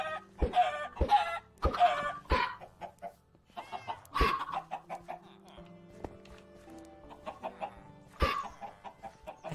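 Chickens in the farming game Pink Castle world, a string of sharp clucks and squawks in bursts, fairly close and alone, with quieter pauses between calls.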